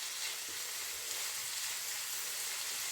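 Snake gourd sizzles steadily in a hot pan with turmeric powder, a continuous close frying crackle with no talking.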